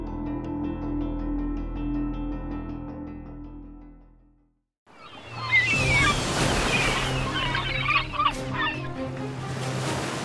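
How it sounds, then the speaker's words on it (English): A seabird colony on sea cliffs, thousands of birds calling in a dense, loud chorus of cackling cries over surf, following a stretch of low droning and a brief silence. "the sea cliffs become home to thousands of seabirds"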